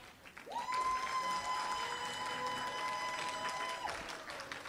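Audience applause welcoming a speaker at a conference, a steady dense patter of clapping from a crowd, with a long sustained electronic tone sounding over it for most of the stretch before fading out.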